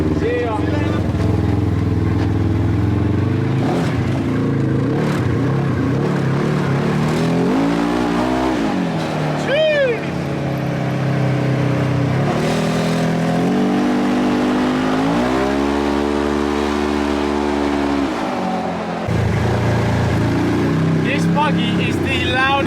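A very loud car drives on London roads, its engine droning and revving through shifting gears, rising and falling in pitch close by, with brief speech over it.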